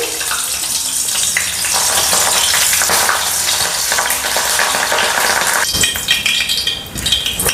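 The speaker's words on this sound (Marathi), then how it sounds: "आता मिरच्या तळून घेऊ।" Green chillies fry in hot oil, a loud, dense, continuous sizzle and crackle close up, with a brief stir and clatter near the end.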